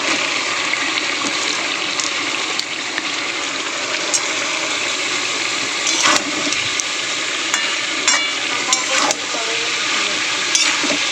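Finely shredded cabbage is stirred into a sizzling spice paste in a pan, giving a loud, continuous frying hiss with scattered scraping stirs close up and no voices.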